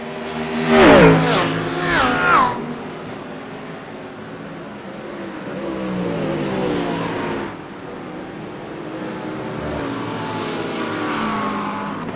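GT3 race cars in a racing video game at Monza, a Lamborghini chased by a McLaren; sharp engine screams sweep past early, then a sustained, rising engine roar continues through the rest.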